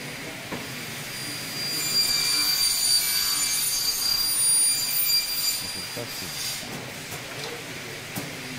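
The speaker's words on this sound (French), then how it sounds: "On découpe toujours à l'aide de la commande numérique de tête." A CNC machine cuts aluminium frame profiles in a school workshop, a loud high whining saw screech swelling in the middle over steady machinery hum, then tapering off.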